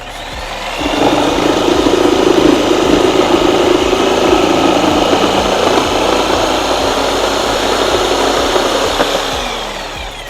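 A Bosch PST 1000 PEL electric jigsaw runs loud and steady for about nine seconds while cutting, with a continuous motor whine and a low buzzing vibration. It starts abruptly, holds an even level, then tapers off at the end.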